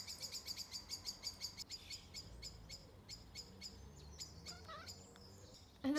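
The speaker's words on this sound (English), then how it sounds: "Bella, you can't get the birds up there." Small birds chirp and tweet in quick repeated bursts outdoors, a steady run of high calls that thins out toward the end, moderately close with no talk.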